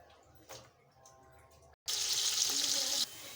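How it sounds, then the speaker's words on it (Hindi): Onions drop into hot oil for beef yakhni pulao, a sudden loud burst of frying sizzle that settles after a quiet moment. "इसके अंदर हम सबसे पहले प्याज को फ्राई करेंगे। प्याज डाल देंगे और इसको फ्राई कर लेंगे अच्छा सा।"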